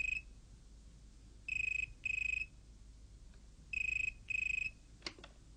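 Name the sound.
telephone ringing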